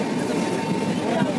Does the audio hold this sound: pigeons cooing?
no